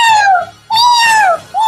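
A person imitates a cat's meow, giving three drawn-out, loud, close meows with falling pitch and short gaps between them.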